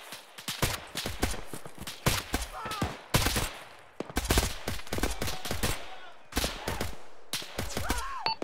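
Sniper rifle fire from a mountainside in the video game Arma, heard as a string of sharp cracks at irregular intervals, some loud and close, others duller and distant, with faint movement sounds between shots.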